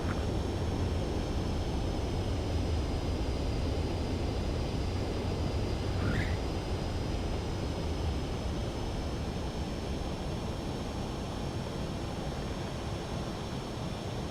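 An aircraft in the Ace Combat 7 video game approaches a runway to land, heard as a steady, fairly quiet roaring rush of engine and wind noise that holds constant throughout with no voices.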